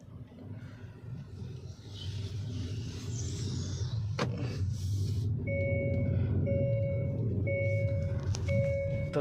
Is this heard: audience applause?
no